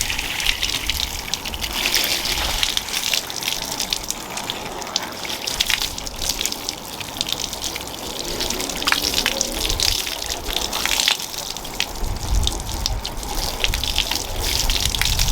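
A garden hose sprays water across a waxed car panel in a steady, close, full-band rush that keeps going with slight surges and splatter throughout, with no talking.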